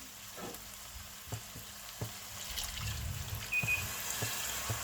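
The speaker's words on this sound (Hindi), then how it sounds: "जी, तो आप देख सकते हैं कि दाल हमारी बहुत अच्छे तरीके से भुन चुकी है।" Steady low sizzling of moong dal lentils roasting in a pan, with occasional soft scrapes of stirring, fairly quiet and close.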